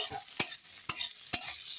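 Cashews, raisins and melon seeds fry in a pan under a soft background sizzle, punctuated by three sharp, evenly spaced scrapes as they are stirred.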